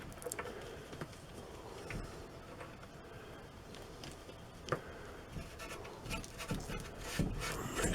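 Wooden pieces of a picture-mirror frame are pried and handled during disassembly, giving quiet rubbing, scraping and light knocking sounds with scattered sharper taps and clunks near the end.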